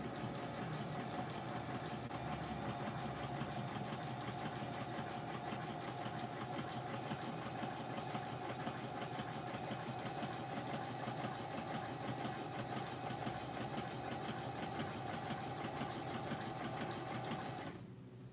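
A sewing machine stitching fabric during a home crafting session, running in one continuous, steady, rapid mechanical hum and clatter for about seventeen seconds before stopping abruptly, close and unaccompanied by speech.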